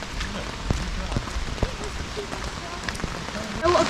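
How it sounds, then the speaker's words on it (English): Pouring rain on a walk in the UK, a steady patter of drops hitting surfaces with occasional louder splats, close by, while a voice is faintly present near the end. "we're now having a walk in the pouring rain"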